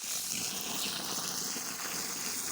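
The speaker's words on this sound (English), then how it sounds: "So now we're gonna fill it up with water." Water gushes steadily into a freshly dug planting hole for an Arbequina olive tree in Texas, a constant close rushing hiss with no talking.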